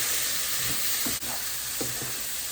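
Shrimp frying in a pan with spices, a loud steady sizzle with a few soft stirring scrapes, close up and with no voices.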